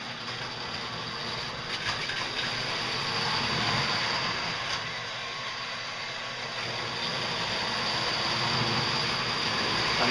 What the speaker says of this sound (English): train keeps reversing on one corner. There she goes.